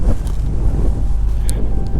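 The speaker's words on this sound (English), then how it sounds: "It is very windy today, I'll tell you that." Strong wind buffeting the microphone, a constant low roar with gusty thumps, loud and close for the whole moment.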